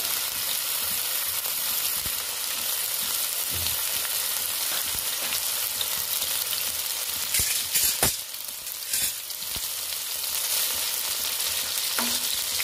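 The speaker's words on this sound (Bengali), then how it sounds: "মাছগুলো ভাজা হতে দিচ্ছি।" Katla fish pieces frying in oil in a pan, a loud, close, steady sizzle with occasional clinks and scraping from stirring, no talk.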